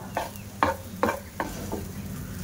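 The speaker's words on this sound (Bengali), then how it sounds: "এবার আলুটা বেশ ভালো করে নাড়তে থাকবো" Spiced potato filling for aloo puri being stirred in a hot pan, with a few distinct scraping strokes over a low, steady sizzle.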